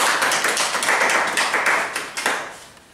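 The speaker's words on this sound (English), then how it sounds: "Why don't you clap for Madame?" School audience at a girls' creative arts festival claps for a speaker, brisk and fairly loud at first, with distinct individual claps standing out before the applause thins and fades away.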